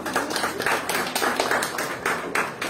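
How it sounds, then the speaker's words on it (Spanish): An audience applauds at a marimba course closing ceremony, with a brief, moderately quiet patter of clapping hands heard from some distance. "Fuertes aplausos,"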